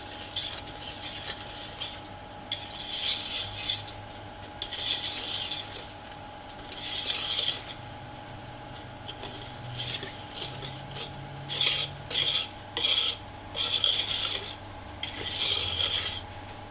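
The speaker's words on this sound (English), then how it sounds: "And you're going to mix this until it's just about incorporated." Flour is being stirred into chocolate brownie batter, giving repeated soft scraping and rasping strokes in uneven bursts, close by and with no talking.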